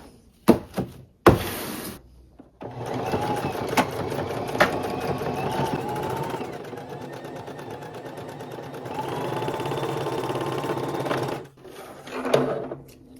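A sewing machine stitches a dart in black thread with a black bobbin during a thrifted-clothing alteration, running steadily and close for about nine seconds, with short handling clicks before and after.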